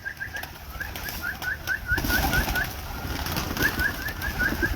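Pigeons give soft repeated coos close by, joined by a burst of wing flapping partway through, over faint background noise.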